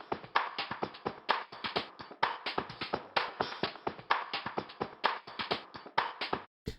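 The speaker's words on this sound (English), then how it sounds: "So, for instance, if we go to 79 shifted jazz," A Stylus RMX jazz percussion loop called 79 shifted jazz plays alone: a quick, steady groove of crisp tapped hits and brushy strokes repeating in tight rhythm, fairly quiet and close, stopping abruptly at the end.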